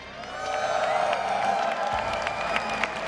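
Arena crowd at the PAX East 2015 Halo Championship Series finals cheering and clapping in a steady, sustained roar with scattered whoops, heard at a distance and moderately loud throughout.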